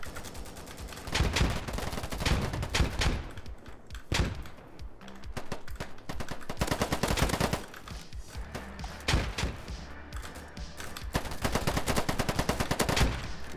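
Rapid gunfire in the shooter game Polygon, sustained automatic bursts and single shots crackling densely over a constant game-noise bed, near and loud throughout.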